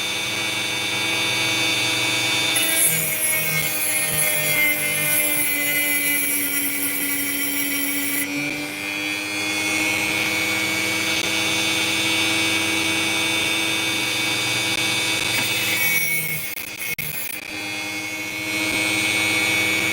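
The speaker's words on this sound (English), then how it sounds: "What I'm going to do now is just carve all the sand off." An opal being carved down on a grinding wheel to remove its sandy outer layer, giving a steady, loud, close abrasive whine with a motor hum that runs almost continuously, with brief dips in intensity.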